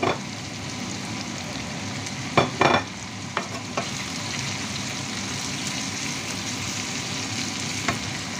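Onion sizzles steadily in a hot frying pan while sisig is being cooked, a close, continuous crackle broken by a few sharp spatula scrapes and clinks.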